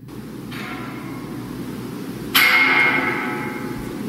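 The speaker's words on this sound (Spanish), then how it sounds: "Esa es una campana." A bell strikes twice in a paranormal audio recording, the second strike louder and ringing out with a long decay over steady background hiss.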